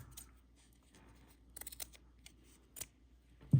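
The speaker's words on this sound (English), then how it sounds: "So we're going to trim that here so I can have a little bit more on the length." Scissors snip paper for a miniature junk journal in short quiet bursts of clustered cuts, close and soft against a still room.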